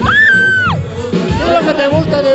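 At a disco party event in Huancayo, a crowd shouts and whoops loudly, with rising cheers and overlapping voices filling a short, busy stretch.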